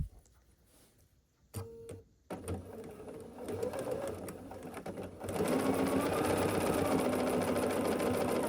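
A sewing machine joins quilt block squares and half-square triangles, starting with a few clicks and short stitching bursts before settling into a loud, steady, continuous run of needle clatter close by.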